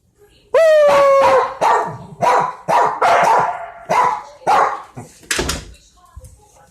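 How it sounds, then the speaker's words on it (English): A dog barks repeatedly indoors, about eight loud, close barks in a ragged rhythm, the first drawn out like a yelp or howl, with no voice over them. "What are you barking at me for?"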